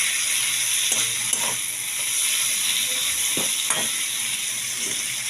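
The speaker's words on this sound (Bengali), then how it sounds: "মাছের মাথাটা একটু ফ্রাই করে এর সাথে মশলার সাথে ফ্রাই করে নিয়ে আমি দিয়ে দেবো পুঁই শাকের এই সবজিগুলো" Fish head fries with spices and Malabar spinach vegetables in a pan, giving a steady, close sizzling hiss. Occasional soft stirring knocks come through, with no talking.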